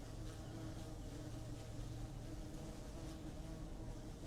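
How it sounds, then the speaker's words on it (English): Bumblebees buzz among flowers at a cemetery, a faint continuous droning hum with no talk. "Check out all those bumblebees."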